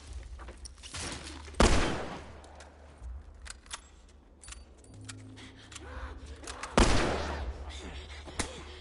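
Rifle fire in the video game The Last of Us, with two sharp, loud shots several seconds apart over a low game background.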